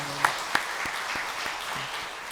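Congregation applauding during a Sunday church service: soft, diffuse clapping from a crowd with a couple of sharper claps near the start, fairly faint and even throughout.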